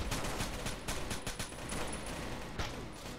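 Rapid gunfire in the video game Rainbow Six: Shadow Vanguard, a dense burst of sharp shots running almost continuously through a busy, loud game mix with no voices.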